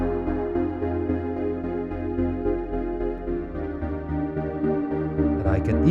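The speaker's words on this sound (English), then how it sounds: "how to create a pad sound like this with the virtual analog synthesizer of the MV-8000" A sustained, harmonically rich synth pad from the virtual analog synthesizer of a Roland MV-8000 swells and holds close and steady, with a faint brief rustle near the end.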